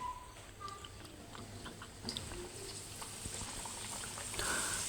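Chebureki fry in hot oil with a soft, steady sizzle and light, scattered crackling and popping, faint and close, growing a little brighter toward the end.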